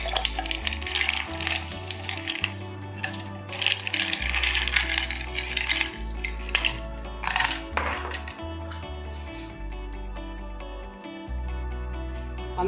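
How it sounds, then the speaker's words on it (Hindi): Ice cubes clatter and clink into a container while making cold coffee, a run of close, bright rattling knocks with a steady low hum underneath. "इसमें डालेंगे पहले थोड़ी सी बर्फ डालनी है,"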